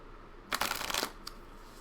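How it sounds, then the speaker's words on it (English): Cards riffle in a quick half-second shuffle, close and crisp, followed by a brief soft card flick in an otherwise quiet room. "I'm going to pull a card now"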